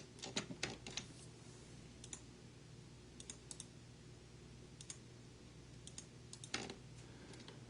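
Computer keys are pressed in scattered short bursts of crisp clicks, close and fairly quiet, with pauses between groups and no talking.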